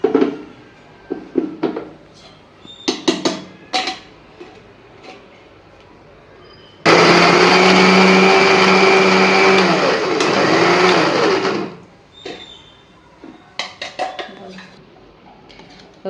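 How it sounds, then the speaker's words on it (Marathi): A mixer grinder whirs loudly and steadily for about five seconds as it blends vada pav chutney with garlic and oil, framed by clattering of the jar, lid and utensils before and after. "मिक्सर हो मिक्सरला लावा"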